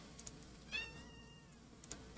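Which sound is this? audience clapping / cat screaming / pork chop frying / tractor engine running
cat screaming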